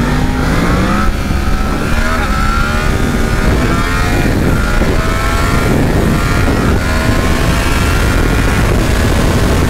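A 2018 Yamaha MT-10 sport motorcycle engine roars continuously and loudly, revving up and down with gear shifts throughout.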